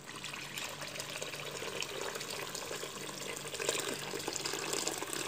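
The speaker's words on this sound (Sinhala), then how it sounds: "දැන් මම මේකට වතුර දානවා." Water pours into a pot of chicken pieces set to boil for kabsa, a soft, steady splashing trickle that swells slightly toward the end, heard alone and fairly faint.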